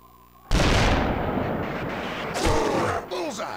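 A single loud hunting rifle shot in the game Cabela's Alaskan Adventures cracks sharply after a short quiet lead-in, then rolls into a long booming echo while game sounds and chirping calls follow.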